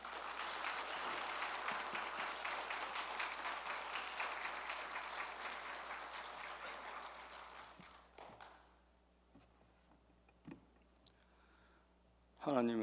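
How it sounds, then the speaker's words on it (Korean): In a church service, the congregation claps steadily for about eight seconds to welcome an elder, then the applause dies away into quiet room noise with a few faint thumps. A voice speaks at the very end. "큰 박수로 환영합니다."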